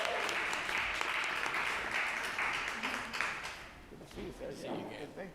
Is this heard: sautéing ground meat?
no